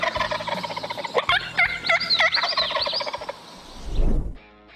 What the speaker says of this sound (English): When you hear that gobble,